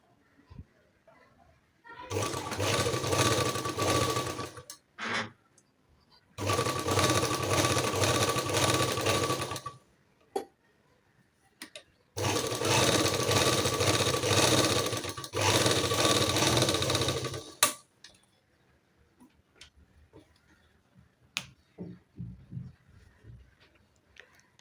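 Domestic sewing machine running and stitching, with four long steady loud droning runs of a few seconds each separated by short pauses, followed by light clicks and handling noise.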